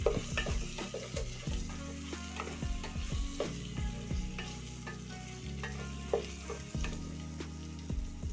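Drumsticks and onions sautéing in a pan for an egg curry, a continuous close sizzle with repeated spatula scrapes and stirring knocks, no one speaking.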